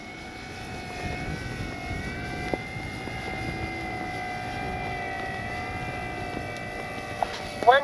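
A Flex RV-8 60E G2 electric RC model airplane comes in to land, a steady propeller whine holding at moderate distance while someone talks over it.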